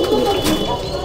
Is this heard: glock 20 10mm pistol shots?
no